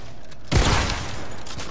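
A combat shotgun fires once in a video game, a single sharp, loud blast with a booming low thump that decays quickly into a short tail.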